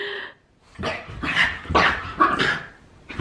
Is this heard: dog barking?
yes